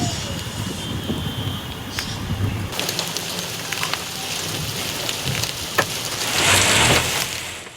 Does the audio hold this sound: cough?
no